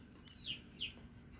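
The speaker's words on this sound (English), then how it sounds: "we got a rooster" A half-blind rooster gives two short, quiet clucking calls in quick succession, faint against a low background hum.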